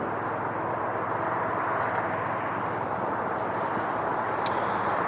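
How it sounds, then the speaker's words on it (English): Steady, broad roar of an Aeromexico Boeing 787-8 Dreamliner airliner heard from a distance at an airport, a continuous even rumble with no rise or fall. "That is Aeromexico flight 647 going to Mexico City, 787-8 Dreamliner"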